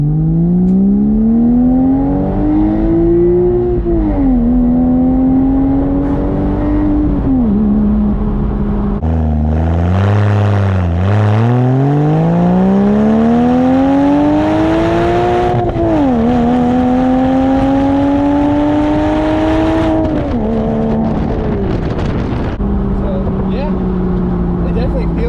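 A Porsche engine with a new intake revs repeatedly, climbing and falling in long sweeps with a deep droning tone, loud and close and continuous for the whole span.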